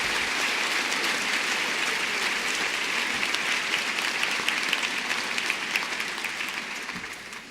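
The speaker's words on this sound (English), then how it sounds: "If we could all give everyone a round of applause for their service." An audience at a school back-to-school event gives dense, sustained applause, a steady rain-like wash of clapping that holds evenly and then tapers slightly at the end.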